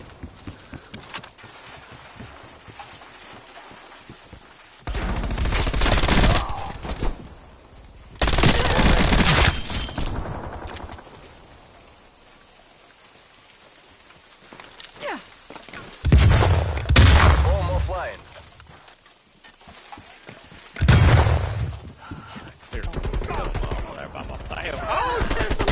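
Gunfire in the video game Call of Duty comes in several loud bursts separated by quieter stretches, with players talking over some of them.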